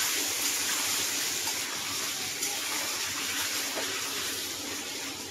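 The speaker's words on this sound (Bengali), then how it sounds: "দিয়ে খুব সুন্দর করে আলুটাকে ভেজে নেব" Potatoes seasoned with salt and turmeric fry in a pan, producing a dense, steady hiss and sizzle that stays loud and even throughout.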